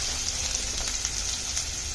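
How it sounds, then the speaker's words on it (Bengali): Chopped onions sizzling in a frying pan for shrimp curry, a steady close crackling hiss with scattered pops throughout. "আমি 1 কাপের মতো পেঁয়াজ কুচি দিয়ে দিয়েছি"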